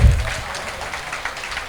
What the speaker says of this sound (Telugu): గట్టిగా క్లాప్స్ కొట్టుకుందాం.